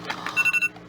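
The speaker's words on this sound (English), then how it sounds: "That's my alarm." A phone's reminder alarm goes off nearby with four quick, bright electronic beeps in a tight row, then falls silent.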